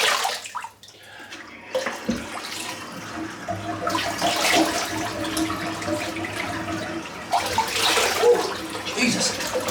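A bathroom tap runs cold water into a sink after a shave, a steady broadband splashing rush that swells and fades over several seconds, close by with no talk.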